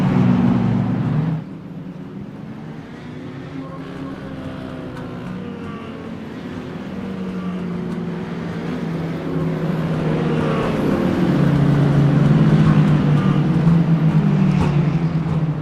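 Race cars running behind the official pace car in the iRacing video game, a stock car racing league, with a steady engine drone whose pitch slowly rises and shifts as the pack holds formation, loud and continuous without speech.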